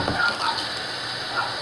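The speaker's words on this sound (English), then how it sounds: "Then add a little bit of cold water." Cold water runs steadily from a kitchen or bathroom tap in a continuous close splashing gush, with faint voice sounds underneath.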